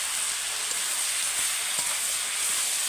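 Vegetables fry with spices for a rohu fish-head and Malabar spinach curry, a continuous close sizzle of hot oil with faint crackles and no talking.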